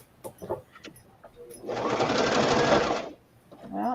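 A sewing machine stitches a butterfly onto vellum in a fast, even whir that lasts about a second and a half, close and clear, with people talking briefly before and after it.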